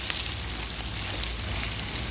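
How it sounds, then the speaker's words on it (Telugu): Onion pieces fry in a pan for a bitter gourd curry, giving a steady, close crackling sizzle that stays dense and even with no talking. "ఉల్లిపాయ ముక్కలు ఊరికే వేగిపోతాయి త్వరగా"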